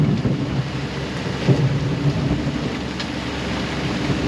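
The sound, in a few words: rain and thunder of a storm at sea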